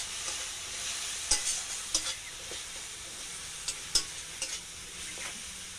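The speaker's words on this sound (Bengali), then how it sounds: "এটাকে দিয়ে ভালো করে নাড়িয়ে কষিয়ে নেব।" Tomato paste with ginger, garlic and onion sizzles in a pan, with a steady frying hiss and a spoon scraping and knocking the pan in irregular strokes close by.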